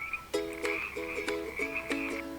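Frog croaks repeat in a quick sequence of several close, clear calls over a faint high whistling tone, with no talking.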